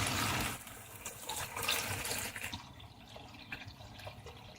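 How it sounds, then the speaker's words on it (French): Water poured from a tap or jug into a cooking pot to cover potatoes and zucchini stuffed with minced meat, a steady close splashing rush that fades after a couple of seconds into a softer trickle. "Je couvre d'eau."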